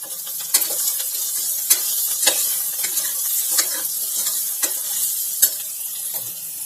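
Mint and coriander leaves frying in a pan for veg biryani as a spoon stirs through them, with irregular scraping knocks every second or so over a steady bright sizzle, close up and without talk.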